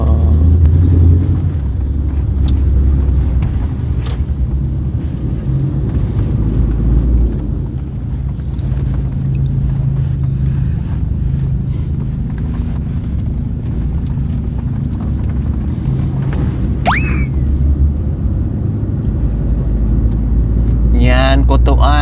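Interior of a moving vehicle travelling to a market, a steady low engine and road rumble throughout with people talking over it and a few brief sharp squeaks near the end.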